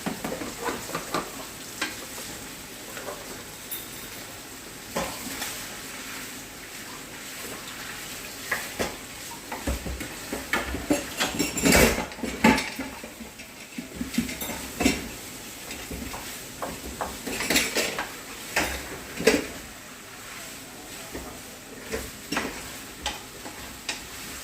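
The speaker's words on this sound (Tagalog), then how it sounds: "Now I'm gonna add the chili, green chili, 8 pieces" Eight green chilies sizzle and fry in a hot pan, with steady crackling and intermittent scraping of a spoon stirring against the metal, alone without voices.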